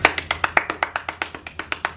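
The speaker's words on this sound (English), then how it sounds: "Insert applause here." Steady clapping at a brisk, even pace, about a dozen sharp claps spread over two seconds, close and fairly loud with no other sound.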